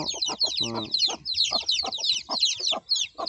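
Several hens and chicks on a small backyard farm cluck in quick, overlapping bursts nearby, a busy chattering rhythm of short calls.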